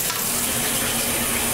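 Water running into a bathtub to soak film during home film developing, a steady close rushing splash that fills the passage without talk.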